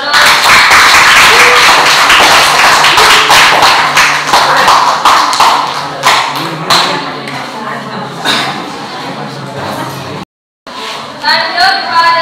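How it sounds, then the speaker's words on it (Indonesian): A classroom audience gives a burst of clapping, loud at first and then thinning into scattered claps, with a short silent gap and a few voices near the end. "kita berikan aplaus dulu"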